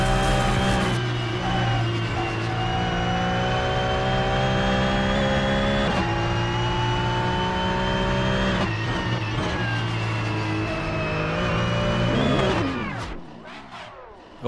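A Mazda MX-5 Cup race car engine heard from onboard during a race at Sydney Motorsport Park: a loud, sustained high-revving drone with several sharp gear-change dips, easing off and falling away near the end.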